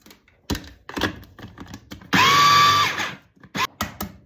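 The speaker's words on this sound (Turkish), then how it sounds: "biraz daha sudan geçirip rondoya alıyoruz ve şimdi çekeceğiz" A food processor grinds soaked lentils in one short, loud burst of under a second, its motor whine rising and then holding steady. Scattered knocks and clatter come before and after the burst.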